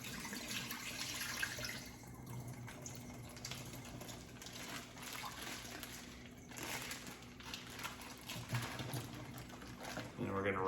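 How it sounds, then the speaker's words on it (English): A brined pork loin is rinsed under a running kitchen tap, giving a faint, steady wash of water splashing in a sink, with occasional soft clatter. "And we're gonna rinse it. Get rid of any excess brine."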